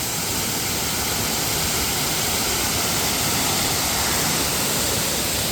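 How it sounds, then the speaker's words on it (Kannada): Loud, steady roar of Devaragundi Falls, a temple waterfall in Karnataka, a dense unbroken rush of falling water filling the whole clip. "ಹಾಗೆ ದೇವಸ್ಥಾನಕ್ಕೆ ಸೇರಿದ ಒಂದು ಫಾಲ್ಸ್ ಇದು."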